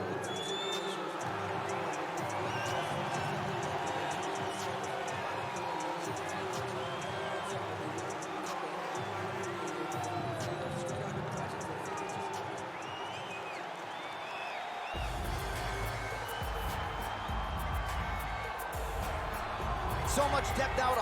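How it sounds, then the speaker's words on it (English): Arena crowd in the UFC 4 video game during a women's strawweight fighter's walkout, a steady roaring murmur with scattered cheers and applause throughout, swelling after the midpoint and rising a little at the end. "you hear the crowd behind her"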